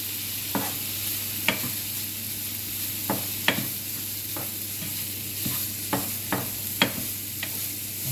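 About 200 grams of meat frying in a pan for a midday meal: a steady, close sizzle carries throughout, broken by sharp clicks and scrapes of a utensil against the pan, with no talking.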